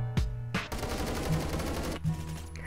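Rapid automatic gunfire in Roblox Phantom Forces, a dense continuous burst of shots close and fairly loud, with sharp single reports at the start.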